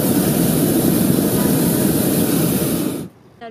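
A hot air balloon's burner roars loud and steady in flight, then cuts off abruptly near the end, leaving near silence.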